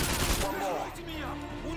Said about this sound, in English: he used the MG. Yep, MG4